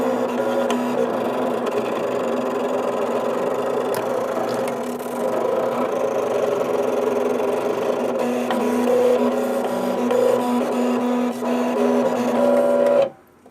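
A Cricut cutting machine works through a card, giving a steady mechanical whir with a faint sustained tone and small shifts in pitch as the blade carriage moves, then stops abruptly at the end.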